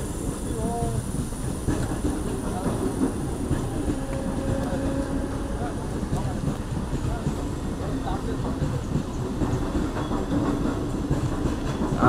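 The Mumbai Express passes on a monsoon trip near Lonavala in Maharashtra, a close, continuous rumble with the rhythmic clatter of wheels on rails and voices heard under it.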